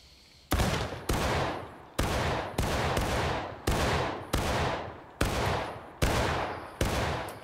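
Nine rolling musket volleys from an infantry line in the Civil War game War of Rights, each a loud, sharp crackling crash with a decaying tail, fired in a steady rhythm about one every second, with no talking over them.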